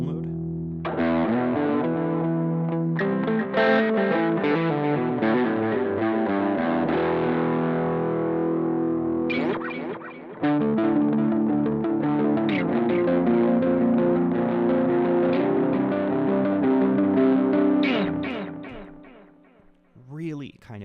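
An electric guitar played through a Boss GX-10 processor with a space echo effect rings out in sustained distorted chords and lines, repeats trailing behind each phrase, fading out near the end.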